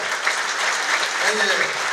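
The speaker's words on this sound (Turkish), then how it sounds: "Alkışlar." An audience applauds at a jubilee evening: dense, steady clapping from a full hall fills the whole stretch without a break.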